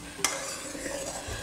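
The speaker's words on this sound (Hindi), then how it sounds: "अब दूध को हम गाढ़ा होने तक पकने देंगे और बीच बीच में इसको चलाते रहेंगे" A spoon stirs thick, boiling, reduced milk in a pan while making kulfi, giving a close, soft bubbling sizzle with a brief sharp scrape of utensil against metal near the start.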